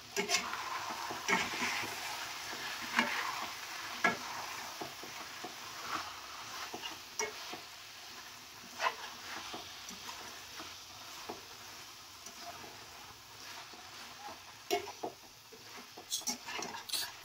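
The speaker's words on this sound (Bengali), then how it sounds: "লেবু দিয়ে একবার ভালো করে নেড়ে নেবেন" Dhaba-style chicken curry with lemon is stirred in a pan, with soft sizzling and frequent scraping and clinking strokes of a spoon. A voice talks faintly at times underneath.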